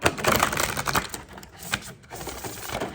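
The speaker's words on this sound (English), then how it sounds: "I'm going to give this one another shuffle here right now." Papery riffling and soft slapping of an oracle card deck being shuffled, close and fairly quiet, in quick uneven bursts with brief pauses.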